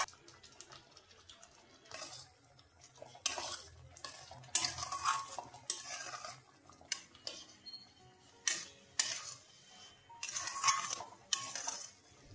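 Semolina sheera being stirred with half a litre of milk in a pan, with intermittent scraping and clinking strokes of a spoon against metal, quiet and close with pauses between strokes.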